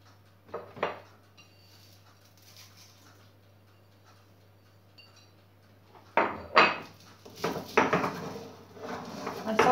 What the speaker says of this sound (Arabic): كشتي غندقدقها مزيان مع هاد الشوي ديال العزير اللي عندي وداك الشوي ديال السالميه